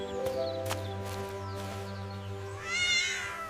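A cartoon mother cat gives one long, drawn-out meow over steady background tones, ending in a brighter rising cry. It may be a voice actor imitating a cat.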